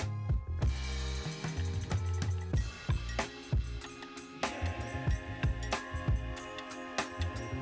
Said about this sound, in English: Now all you have to do is undo the bolts.